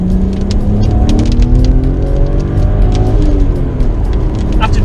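A BMW with the N54 engine, 53,000 miles on it, accelerates after a downshift in rush-hour traffic, a loud close engine note rising in pitch as it pulls, with wind and road rustle over it.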